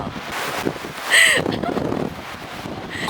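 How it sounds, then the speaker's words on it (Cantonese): Strong gusting wind in eastern Iceland roars across the microphone in a constant rumbling buffet, with a voice speaking briefly beneath it. "你睇下有大風啊，勁亂個頭。"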